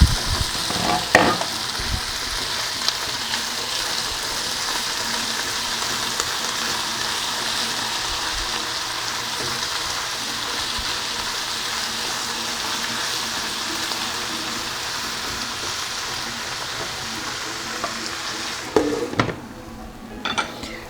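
Shredded cabbage frying in a pan for a Persian cabbage omelet, a steady, close sizzle lasting the whole stretch, with a few clinks of stirring near the start and again near the end.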